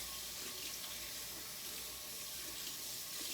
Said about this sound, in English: I'm gonna wash my hands because you see I have all this purple from the red cabbage.